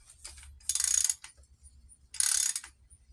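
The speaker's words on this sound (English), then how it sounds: "you can hear all the dirt just as he drives that coupling out" Two bursts of gritty, rattling grinding from dirt in a spinning Trek mountain bike bottom bracket, with a faint low mechanical hum running underneath.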